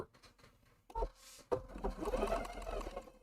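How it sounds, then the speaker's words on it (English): A Husqvarna Viking Designer Ruby 90 sewing machine stitches in reverse and then forward, giving short whirring bursts with a brief pause between them, fairly quiet and close. "I hit the button. I'm sewing in reverse."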